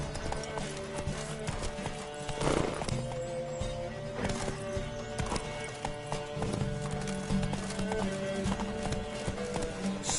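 The horse Roach gallops in a video game race, rapid hoofbeats drumming steadily and close, with a whinny partway through and other hooves clattering alongside.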